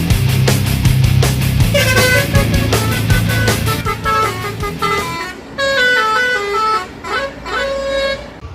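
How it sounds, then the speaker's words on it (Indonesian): Loud, repeated bus horn toots in short bursts and longer blasts over a rumbling engine, with harmonic honks stepping up and down near the listener, in West Sumatra. "Klakson Mior sudah berbunyi."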